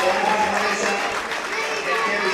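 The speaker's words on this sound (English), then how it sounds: "And all the fans clapping, encouraging the team." Fans clapping steadily in a stadium crowd at a national relay trials meet in Nairobi, a dense wash of applause with commentary talking over it.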